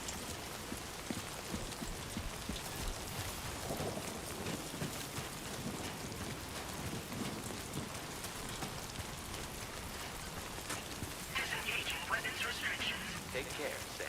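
Steady in-game rain from the timefall weather in Death Stranding 2, a dense even hiss of drops on surfaces with faint rumbling underneath, while voices talk over it.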